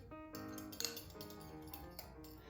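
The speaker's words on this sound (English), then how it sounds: "we just want to take a fork or a small whisk and really blend all of" A fork or small whisk clinks and taps against a bowl while blending dry seasoning with thyme, a quick run of close, light metallic clicks with one brighter chink near the middle.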